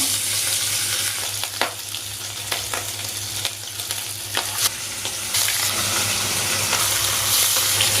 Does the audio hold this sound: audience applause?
no